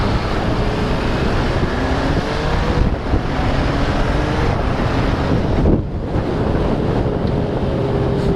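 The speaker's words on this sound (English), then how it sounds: "I just had wind coming from the right and I had to lean into it ever so slightly to your right." Loud, steady wind roar buffeting the microphone while riding a bike in a crosswind, continuous rushing noise with brief dips and no talk.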